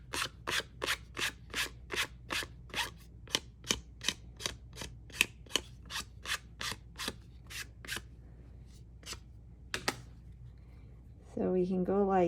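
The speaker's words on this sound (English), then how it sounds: "I am gonna do is distress this, and I'm just gonna go ink to paper, going like this." Ink pad rubbed repeatedly across paper edges to distress them, a quick series of crisp scraping strokes in steady rhythm, loud and close, then a pause and a voice speaking at the end.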